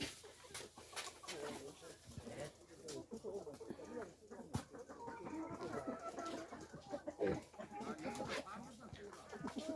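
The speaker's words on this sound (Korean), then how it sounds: "아침 일찍 음, 요닭 농장에 와서 지금 이 아이들 지금 찍고 있습니다" Chickens clucking on a small chicken farm of about forty birds, on a cold morning, with intermittent clucks and calls heard faintly under a person speaking nearby.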